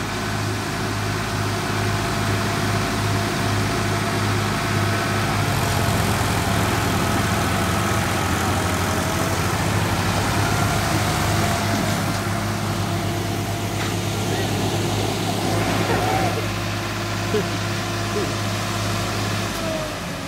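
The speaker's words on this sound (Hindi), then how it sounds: "अब तीन तीन ट्रैक्टर बांधे जा रहे हैं, देखना इस बार निकल जाती है कि नहीं" Several tractor engines run together while pulling a stuck Preet 3549 tractor, giving a steady, loud low-pitched drone with a constant hum throughout and no talk.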